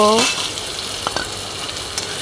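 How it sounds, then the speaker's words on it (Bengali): Chopped onion frying in hot oil for a broken-rice dish, a steady close sizzle with a few stirring scrapes and light crackles, no voices. "কুচানো পেঁয়াজ দিয়ে ভালো করে ভেজে নেব"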